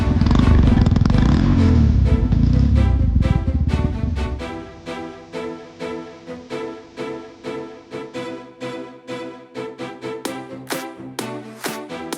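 A brand-new Yamaha FZ-X motorcycle engine runs loud and rough at first, then settles into a rhythmic series of throttle pulses, close up with no talking.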